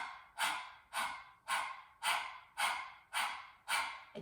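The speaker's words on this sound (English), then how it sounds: "you start panting like a little chihuahua on a hot summer day" Rhythmic open-mouthed panting breaths from a breath of fire exercise, eight quick, even huffs repeating about every half second, close and breathy with no talking.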